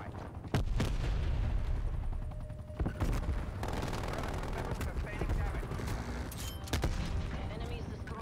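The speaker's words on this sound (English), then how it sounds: "I'm just firing blindly." Rapid automatic gunfire from sentry turrets crackles through a Call of Duty: Black Ops Cold War match, sharp shots and bursts layered over a dense, continuous battle din with a voice talking throughout.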